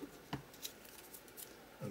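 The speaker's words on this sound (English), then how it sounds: "so I'll just grab some scissors" Quiet, crisp snips of scissors cutting paper, a few separate cuts spaced through a soft background hiss.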